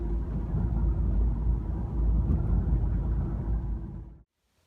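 A car drives along an early-morning road with a steady low engine rumble and road noise from inside the cabin, then cuts off abruptly at the end.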